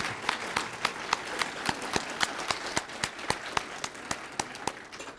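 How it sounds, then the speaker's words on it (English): A room of conference attendees claps steadily, with rhythmic, near-unison claps standing out at regular intervals over a lighter scattered patter, moderately loud and continuing for several seconds. "So let's give Jessica a huge round of applause."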